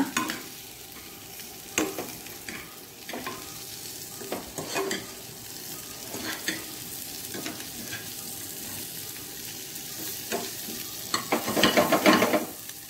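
An egg pepper roast (spicy egg pepper masala) cooks in a pan over a low flame, with a steady soft sizzle and repeated scraping stir strokes. It stays at an even moderate level throughout, with a brief louder burst of stirring near the end and no talk.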